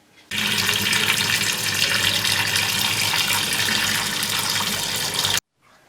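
Steady, loud rush of tap water pouring continuously for about five seconds as developed black-and-white film is rinsed of fixer, stopping abruptly near the end.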